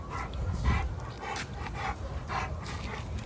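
An American bully dog playing tug, giving low growling and whimpering sounds with soft panting, fairly faint and close, with no talk over it.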